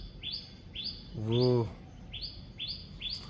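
A pigeon chick chirps while its mother feeds it: a steady series of thin, high, repeated peeps close to the mic, briefly covered by a short spoken word partway through.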